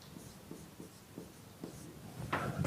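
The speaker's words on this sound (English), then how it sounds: "let me write it here" Chalk or marker writes on a board during an engineering lecture, a run of short rhythmic strokes and taps, fairly close, ending in a longer scraping stroke, with no talking over it.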